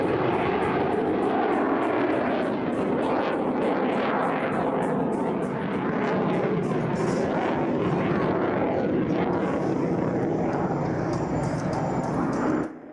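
A Czech Air Force JAS-39 Gripen fighter jet roars past at an airshow in Pardubice, a loud, sustained jet engine blast that fills the air and cuts off abruptly at the end.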